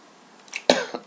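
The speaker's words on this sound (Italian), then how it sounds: "scusate la mia tosse, non mi abbandona ancora" One person coughs once, sharply and close, after a couple of softer throaty sounds, with a brief rasp following in otherwise quiet surroundings.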